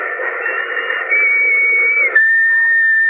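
A steady whistle tone in an old-time radio drama, held loud and unbroken for about three seconds and shifting pitch slightly partway through, with no talking over it.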